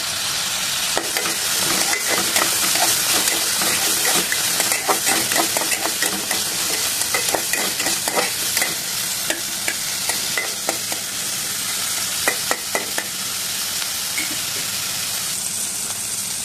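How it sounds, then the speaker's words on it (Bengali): Lentil dumplings (bori) with chopped onion frying in hot oil, a steady close sizzle with repeated scraping stirs and clinks of a utensil against the pan, no voices. "তার সাথে আমি ডালের কয়েকটা বড়ি ফ্রাই করে নিচ্ছি। এর মধ্যে আমি সামান্য পরিমাণ পেঁয়াজ কুচি দিয়ে দিয়েছি।"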